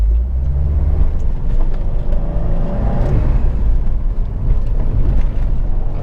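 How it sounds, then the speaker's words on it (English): Subaru WRX STI driving around town, heard from inside the cabin as a steady low engine drone and road rumble with mild swells of acceleration. "Right now we're just driving around."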